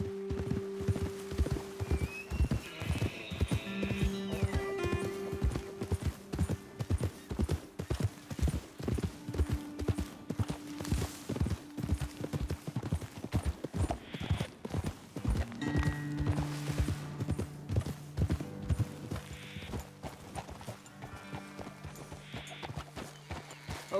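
Hooves of horses clip-clopping steadily along a path in Red Dead Redemption 2, a close, rhythmic trot lasting throughout, with occasional snorts and a whinny layered over a soft musical score.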